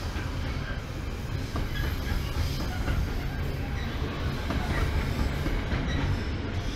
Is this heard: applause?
no